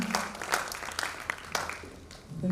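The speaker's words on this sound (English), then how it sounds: "Please clap very well so that the Impact Review will be impactful." Audience clapping at the COSPRA Summit 2023 as a woman is welcomed to the podium, a scattered, moderately loud round of applause with a few distinct claps and a faint voice near the end.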